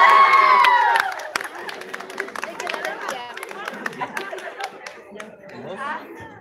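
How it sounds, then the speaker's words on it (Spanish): Students at a school elimination-round contest break into loud cheering and clapping with a whistle or shout at the start, fading after about a second into scattered claps and crowd chatter. "Un fuerte aplauso, chicos"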